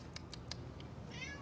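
Cat meowing in its cage: three short quick meows, a softer fourth, then a longer whining cry, all faint and close in a quiet room with no talk.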